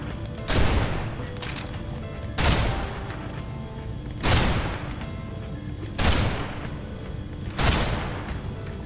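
Gunfire in the PC video game Snowbreak comes as five heavy, booming bursts at regular intervals of about two seconds. Each blast is loud and close, with a rumbling tail that fades between shots.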